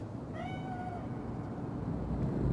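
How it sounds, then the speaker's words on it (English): A single cat gives one clear, drawn-out meow over quiet background ambience in the video game Cyberpunk 2077. "Chill, just a cat."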